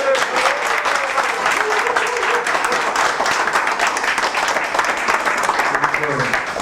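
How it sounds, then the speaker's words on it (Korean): Steady crowd applause fills the hall at an Incheon political rally backing Yoo Jeong-bok, dense and continuous throughout. A voice speaks briefly beneath it near the end. "박수 한번 보내주시죠."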